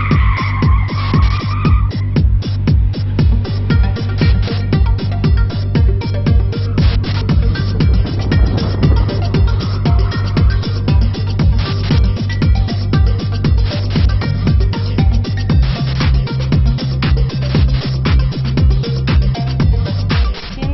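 Turbocharged 2010 Mini Cooper Hot Chili on a test drive, its engine droning loudly and steadily with a shift in pitch partway through, plus a brief higher tone near the start and no one talking.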